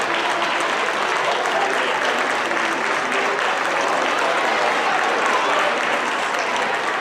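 Sustained applause from a school audience honoring sixth-grade honor students standing for recognition at an awards ceremony, a dense steady wash of clapping filling the room from start to finish.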